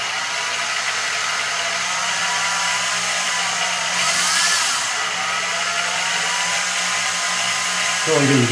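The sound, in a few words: drill bit drilling a hole in a coin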